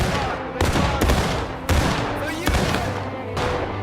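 Rapid bursts of gunfire in a war video game, loud repeated volleys with sharp reports around every second, dense battle noise filling the background while voices shout over it.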